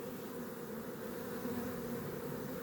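Honeybees from a captured swarm drone around a multi-storey beehive: a continuous, close, even buzz of many insects that holds steady throughout without pause or voices.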